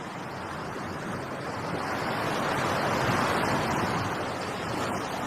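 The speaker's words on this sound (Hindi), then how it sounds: "अपनी आंखें बंद कर समुंदर की लहरों को सुनकर मुझे शांति मिलती है" Ocean waves wash steadily against the shore in a broad, continuous roar that swells slightly midway, with no voices.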